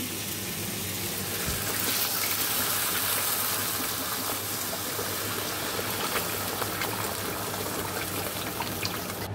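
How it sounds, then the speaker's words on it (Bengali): Water pours steadily into a pan of cauliflower and potato being cooked, with a continuous close gushing and trickling wash that holds at an even level for several seconds. "আর জল ঢেলে দেবো।"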